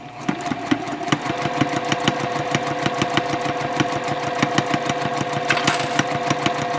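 A sewing machine runs steadily as it top stitches a fabric shopping bag a quarter inch from the edge at stitch length 2.5, a rapid, even mechanical clatter of needle strokes, loud and close, with no talking.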